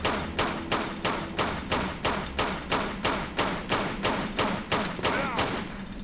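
Repeated gunshots fired at enemies in the Tomb Raider custom level King Arthur Project, about fifteen evenly spaced loud thudding shots in a steady rhythm over game background sound.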